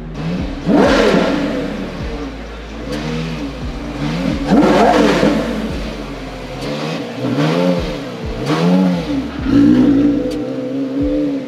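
A Ferrari SF90 Stradale engine revs repeatedly, rising and falling in loud roaring bursts, with a steady idle rumble underneath.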